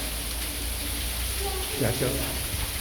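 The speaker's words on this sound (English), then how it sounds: "And then it decided to rain to welcome us and lower the temperature." Sudden rain falling at Undavalli Caves in Andhra Pradesh, a steady wash of drops spattering onto surfaces as water runs off the rock floors above, heard as a continuous hiss under a voice.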